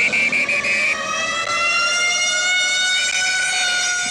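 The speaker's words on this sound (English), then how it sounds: "constant wail of sirens" A loud, sustained siren wails steadily and unbroken, its tone holding strong with a faint rise and fall.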